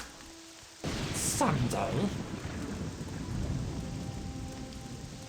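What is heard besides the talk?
rain and thunder in the video game Morrowind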